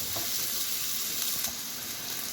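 Steady, loud sizzling of ingredients browning in a pan for a seafood pasta, with faint scrapes from stirring and no talking.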